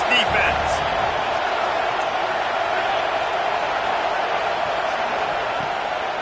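A video-game stadium crowd in NCAA 26 roars steadily behind the defense on a big third down, a dense, sustained wall of cheering that holds loud for the whole stretch without letting up.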